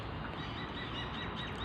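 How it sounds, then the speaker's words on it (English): Pigeons and ibis birds forage along a quiet street in the morning, their calls faint and somewhat distant over a constant broadband background hiss, with no voices. "the pigeons will just work their way, and the remaining ibis birds will work their way just down the street"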